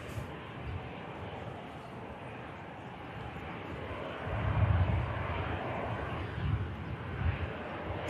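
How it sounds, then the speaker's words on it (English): An EasyJet airliner bound for Geneva taxis at Manchester Airport, a steady broadband engine rumble that swells slightly midway, with no talk over it. "EasyJet flight to Geneva, next to come round the corner."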